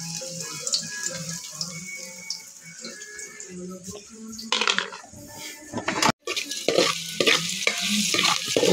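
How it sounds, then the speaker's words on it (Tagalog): Ingredients sautéing in a pan and being stirred, with scraping and clinking of a utensil against the pan, dense sizzle throughout, and a few sharper metallic knocks near the end. "Haluin lang natin guys para hindi dumikit"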